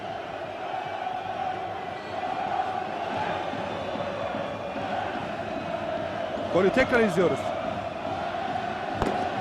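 Trabzonspor fans roaring in the stadium after a goal against Beşiktaş, a broad sustained crowd din beneath a commentator's voice, with a brief surge of chanting near the end.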